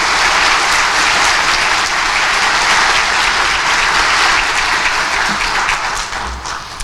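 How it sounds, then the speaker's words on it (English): A large audience at a commencement ceremony for graduating cadets in Idaho breaks into loud, dense applause, a continuous wash of clapping that holds steady and tapers slightly near the end. "give them a big round of applause, that's amazing"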